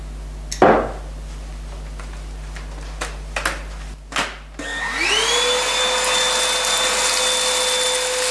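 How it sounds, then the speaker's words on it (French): Cordless Gtech Pro Bag vacuum cleaner starting up with a few knocks and clicks, then its motor rising into a steady, loud whine that holds close and alone. "Le Gtech Pro Bag, un aspirateur sans fil avec un système de nettoyage performant et puissant."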